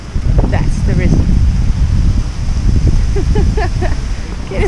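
Strong wind roars across the microphone while riding a Brompton folding bicycle on a windy day, a loud continuous rumble with a voice faintly audible underneath.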